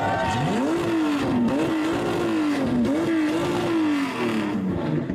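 A car engine revs hard three times, its pitch climbing and dipping in repeated surges, loud and close, with no talking, at a loud-exhaust contest of old Japanese cars.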